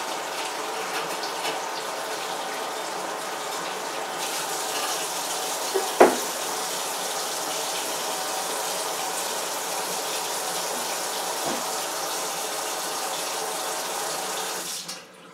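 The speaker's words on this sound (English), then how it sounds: "So I'm just going to run a little water for a minute or so." Water runs steadily from a tap in a film darkroom sink, a continuous close hiss with a small clunk midway, cutting off abruptly at the end.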